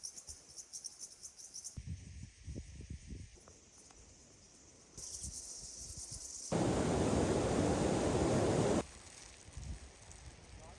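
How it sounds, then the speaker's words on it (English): Grasshoppers chirping along a hot mountain hiking trail in Georgia, a steady insect buzz through most of the stretch, with broadband wind noise on the microphone rising loudly partway through. "There are so many grasshoppers."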